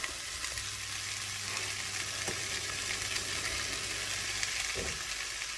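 Mushrooms and peppers sizzle steadily in a hot pan with onions and salt while pea soup is made, a continuous close frying hiss with a few faint stirring knocks and no talking.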